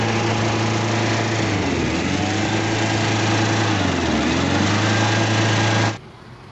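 A Toyota diesel engine with a knocking fault, restarted and running steadily with a loud, even clatter and hum for about six seconds before cutting off abruptly.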